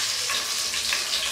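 Finely chopped green chillies and cumin fry in a hot pan, giving a steady, close hiss of sizzling oil that runs unbroken with no talking over it.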